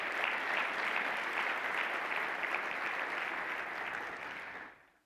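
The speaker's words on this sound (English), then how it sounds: "let's give her a round of applause" A convocation audience claps together in sustained, dense applause that holds steady for several seconds, then fades out quickly at the end.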